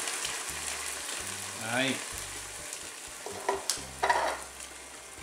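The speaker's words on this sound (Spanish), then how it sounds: "vamos a echarle tomate triturado" Crushed tomato hits browned chicken breast in a hot frying pan, setting off a brisk crackling sizzle with scattered pops and spatters, heard up close with a short spoken word over it.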